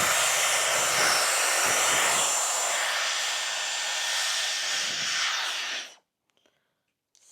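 A Dyson Airwrap fitted with its hairdryer nozzle blows a steady, loud airflow across drying hair for about six seconds, then switches off abruptly, leaving near silence.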